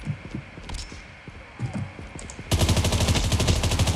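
Gunfire in the mobile shooter Call of Duty Mobile: scattered muffled shots at first, then a loud, rapid automatic burst that rattles on continuously for several seconds.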